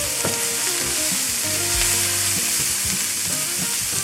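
Garlic and tomatoes frying in a pan, a loud continuous sizzle with brief stirring clatters and bubbling pops, close and alone without voices.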